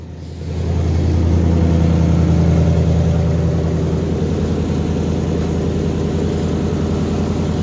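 A 1978 Chevrolet C60 truck engine rumbles loud and close after startup, settling from a brief rise into a steady low idle with no voices.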